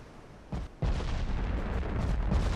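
Torpedoes strike warships in an Ultimate Admiral Dreadnoughts naval battle against armored cruisers: a short heavy blast, a brief gap, then a second loud explosion that rolls into a sustained rumbling roar.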